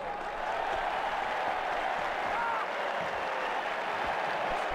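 Steady stadium crowd applause and cheering in a cricket video game match between New Zealand and Australia, a broad continuous roar that holds for about five seconds without a break.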